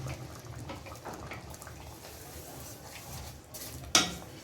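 Sugar is stirred into mango chutney in a pot, a soft, faint scraping and wet churning that ends with a sharp clink of the spoon against the metal rim.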